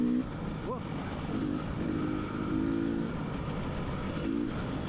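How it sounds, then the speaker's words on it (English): A KTM enduro motorcycle engine pulls at low RPM in third gear, a steady broadband drone with faint rising tonal sweeps, heard close and continuous. "I'm just going around here in third gear, and the KTM just seems to pull well around."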